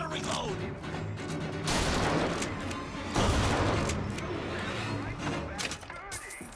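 Bioshock Infinite gunfight: a rapid run of close, loud gunshots and impacts, with heavy bursts and mechanical clatter, while a person talks over the firing.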